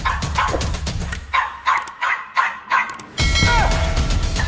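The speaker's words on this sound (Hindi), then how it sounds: "अब इस नादान पिल्ले को देखो, किसके सामने भौंक रहा है।" A puppy gives a series of short, separate barks and yips at close to middle distance, with brief pauses between them, followed by a steadier stretch of background noise.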